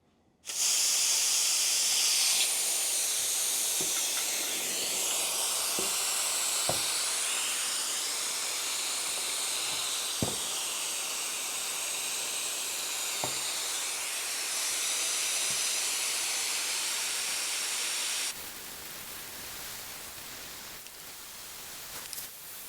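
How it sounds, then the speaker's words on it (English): Compressed gas hisses steadily and loudly out of the opened gauges on a paintball air bottle fitted with a Saber Tactical Karma EQ adapter. The hiss is broken by a few small metallic clicks and drops to a quieter rush near the end. "I'm just going to crack open both of these gauges and let it drain."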